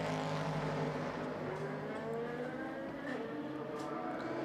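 A 2017 Le Mans hybrid race car coasts downhill while harvesting energy, its engine note falling and shifting in steady tones over a continuous background, with a commentator talking over it.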